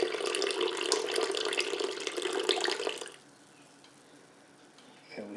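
Warm tap water runs in a steady, loud stream for about three seconds before shutting off, leaving a quiet room with a faint clink near the end; water is being measured out for sourdough.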